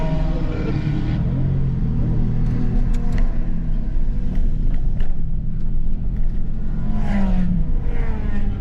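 A Mitsubishi Pajero Evolution rolls through a cool-down lap on a track on a hot day, its engine a loud, steady droning rumble with mild rises in revs, heard from inside the cabin with no talking.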